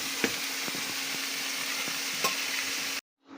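Pangas fish curry with ridge gourd frying in hot oil, a steady close sizzle broken by a few scraping stirs before it cuts off abruptly near the end.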